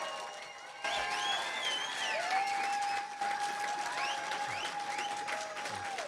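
Audience applause for two candidates at a 2018 political debate in Trenton, a steady sustained round of clapping from a crowd, with a few faint voices and whistles mixed in.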